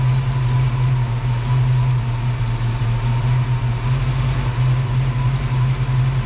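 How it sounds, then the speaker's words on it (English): A Ford Foxbody V8 with a stock cam idling at about 600 RPM, a loud, steady low rumble close by with an even, unbroken drone. "This car having a stock cam, about 600 RPM, something like that, is fine if you can get it to idle."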